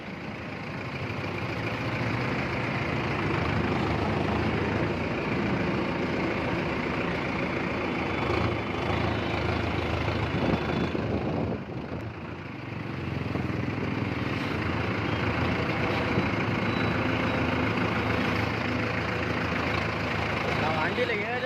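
A Mahindra Novo 605 DI tractor with PS shuttle gearbox runs steadily at close range, its engine rumble continuous and loud throughout with a brief dip midway.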